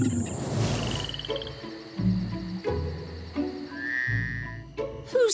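Frogs croaking in a series of loud, close, rhythmic pulsing calls, with higher chirps and whistle-like notes from other creatures mixed in.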